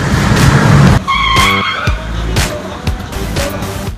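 A blue Porsche sports car skids at a Toyota City showcase, its tires squealing in loud, drawn-out bursts over engine roar, close by and repeating several times with no one speaking.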